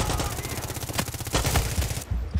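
Rapid automatic gunfire from Far Cry 6 rattles out in a steady stream of close, punchy shots for about two seconds, then stops abruptly.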